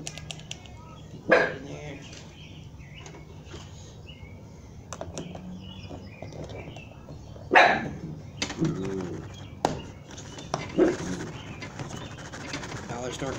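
A few sharp dog barks ring out at intervals, one near the start and a cluster later, over a steady low outdoor hum, while shrimp is prepared as catfishing bait.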